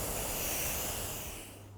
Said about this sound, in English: So now all I need to simply do is spray the antibacterial spray